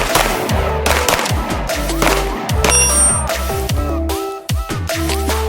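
Rapid pistol shots crack out in quick bursts at a shooting range, comparing a PSA Dagger Compact and Ruger RXM, with loud, sharp reports, metallic pings and echoing decay.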